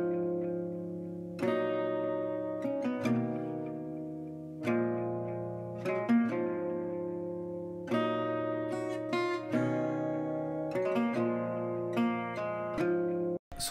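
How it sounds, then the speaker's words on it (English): Main guitar processed with heavy delay, reverb and a Guitar Rig acoustic shimmer effect, lows trimmed, plays a steady arpeggiated progression of ringing notes over nearly fourteen seconds, alone and fairly prominent. "For like the main guitar, I added a lot of delay, reverb, cut some lows again, and guitar rig, the acoustic shimmer"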